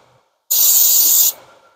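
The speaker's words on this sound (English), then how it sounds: "Spray some brake cleaner here." A single sharp, bright spray of aerosol brake cleaner on an Infiniti QX50 front brake hisses for just under a second, close and loud, then cuts off into quiet.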